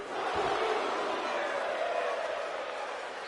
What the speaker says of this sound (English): The crowd getting into it, counting along with referee Davidson.